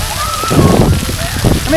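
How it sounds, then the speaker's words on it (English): Water splashing and sloshing in a continuous, fairly loud wash, with people talking over it. "So, a lot of water here."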